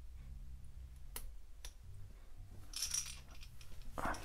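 A few sharp metallic clicks and taps sound close up as a flat side coffin bill crankbait lure is clamped in place, followed by a brief bright rattle, quiet and without talking.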